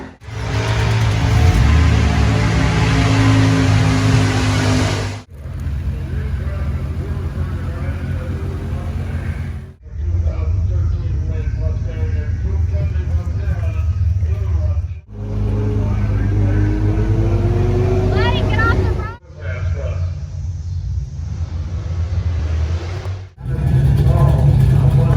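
A Whipple-supercharged Shelby Mustang racing, heard loud from close by as the engine roars through repeated hard pulls, each broken by a brief dip at a gearshift roughly every five seconds.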